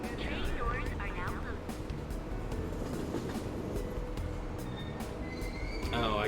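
A video game train rumbles steadily with rattling, screeching wheels and metallic hiss, a continuous close roar lasting several seconds while in-game station announcements sound over it.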